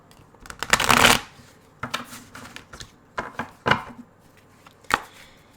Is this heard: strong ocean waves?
no